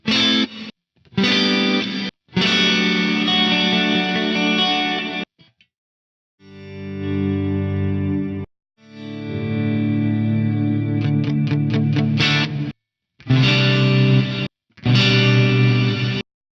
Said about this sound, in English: You hear that sort of like swell in reverse reverb style effect.